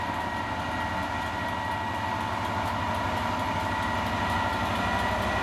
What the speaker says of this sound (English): Today the train is hauled by a Class 67 locomotive, on this occasion one of the Royal locomotives, seen here at Cardiff Central.